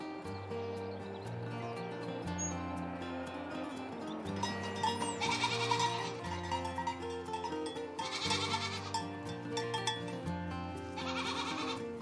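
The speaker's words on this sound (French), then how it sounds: "Les chèvres se promènent en toute liberté dans le maquis qui recouvre plus de la moitié du territoire insulaire." Goats roam the Corsican maquis, their bleats overlapping in steady stretches over a continuous sustained tonal backdrop, moderately loud with no talking.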